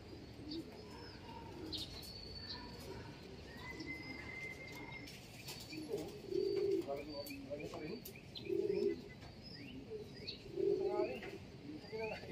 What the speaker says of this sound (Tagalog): Lampas ang ibon.